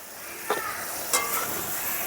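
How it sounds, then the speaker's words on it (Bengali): A spice paste of cumin, coriander, ginger and dried chili ground together, frying in oil with salt and turmeric, giving a soft steady sizzle broken by two brief scraping stirs. "এখন মশলাটাকে ভালো করে কষিয়ে নেব"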